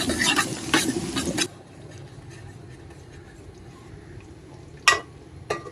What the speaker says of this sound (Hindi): हल्का सा ब्राउन कर लेंगे प्याज को, बस इसका कच्चापन दूर हो जाए।